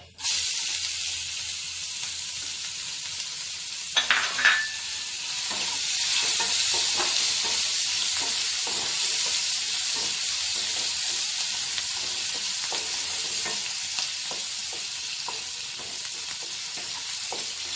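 Chopped onions fry in a pan with a loud, continuous sizzle that flares briefly as they go in, then settles into a steady hiss with soft stirring clicks, close up.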